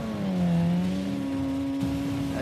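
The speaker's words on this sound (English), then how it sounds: "Drag race guarantees immense suspense, an atmosphere surrounded by the sound of engines." Race car engine at a drag race, a steady loud droning roar with a sustained, slightly wavering pitch, close and alone.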